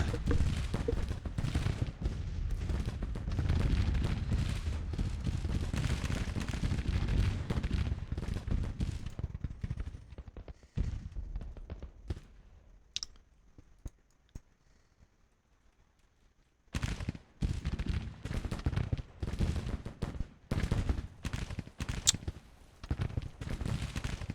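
Massed musket volleys from troops in a Civil War strategy game, dense crackling fire for about ten seconds, a near-silent lull, then renewed scattered shots toward the end.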